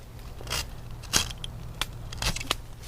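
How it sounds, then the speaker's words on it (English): Pruning shears snipping a moringa branch just above the node, a few crisp separate cuts and cracks of woody stem, close and fairly loud with no talk. "We cut it a little bit above the node"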